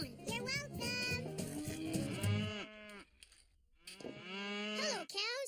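Cartoon cows on a farm mooing, several drawn-out, close moos in sequence with a short pause midway, voiced in an animated show.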